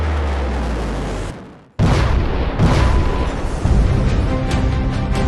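Atomic bomb blast effect: a deep booming explosion cuts in after a brief silence and sustains as a loud, rumbling roar with crackling debris-like bursts.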